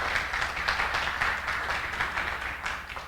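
A church congregation claps in praise for the Lord, a rhythmic, pulsing round of many hands at moderate loudness, steady from start to finish.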